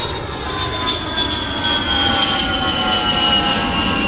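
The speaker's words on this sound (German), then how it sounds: "Man hört vielleicht schon dezent im Hintergrund den Lüfter meines Rechners." A computer's cooling fan runs steadily throughout, a constant broadband whir with a thin, high-pitched tonal whine on top, even in level and uninterrupted, with no voices.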